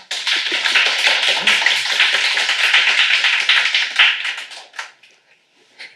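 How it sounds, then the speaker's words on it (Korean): Applause for a professor at the close of a university history-hall talk concert, a dense burst of many hands clapping steadily before tapering off into scattered claps and near silence. "바쁘신 와중에도 이렇게 시간을 내어주신 교수님께 감사의 박수 부탁드립니다"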